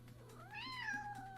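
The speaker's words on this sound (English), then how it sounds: "Yeah, you're a cat. That's what you are." A cat gives a single clear, drawn-out meow that rises and falls, close and moderately loud over a low background hum.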